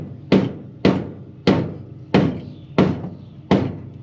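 Six heavy, evenly spaced hammer blows ring out loud and close on a Mini car subframe during a roadside refresh, each strike sharp with a short metallic decay, no talking.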